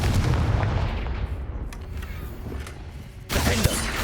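A Confringo fire spell blasts in the Hogwarts Legacy video game, a loud, sustained explosive roar that fades through the middle before a second sharp burst erupts near the end.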